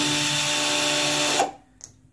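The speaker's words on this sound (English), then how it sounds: "spin the drill." A power drill spins at full speed to twist clamped wire, a loud steady whine for over a second before it cuts off, leaving a faint clink and near silence.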